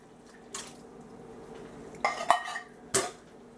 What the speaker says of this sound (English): Next I'm going to add one can of Rotel diced tomatoes and green chilies.